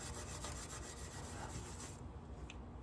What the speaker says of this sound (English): Takes a little scrubbing